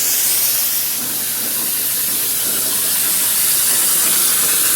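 Compressed air blasting through the lines of an inground sprinkler system on zone 4, a steady loud broadband hiss that holds for the whole stretch with no pauses.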